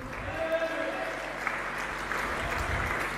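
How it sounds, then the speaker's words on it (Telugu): A church congregation claps together in praise, a steady broadband wash of applause filling the whole stretch at moderate loudness, with faint voices mixed underneath. "ఒకసారి చప్పట్లు కొట్టి దేవుని స్తుతించండి"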